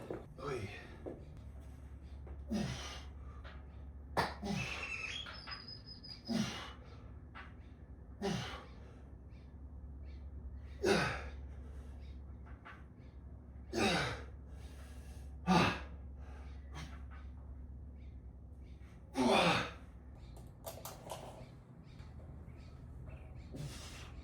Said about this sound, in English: you can listen to me breathe hard